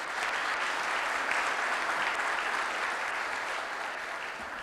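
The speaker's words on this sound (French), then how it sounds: "rien que pour cela, on devrait applaudir la Banque mondiale" Steady audience applause at a World Bank event in a French-speaking country, a dense, even wash of many hands clapping that stays strong throughout and eases slightly toward the end.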